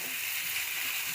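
Steady, soft sizzling of moong dal being sautéed in a pan for Bengali khichuri, a continuous hiss of frying with no talk.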